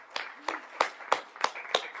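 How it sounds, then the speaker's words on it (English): An audience at a Board of Education meeting gives a few slow, evenly spaced claps for the summer ambassadors, six distinct hand claps over two seconds, moderately close in a room. "Please join me in applauding our summer ambassadors."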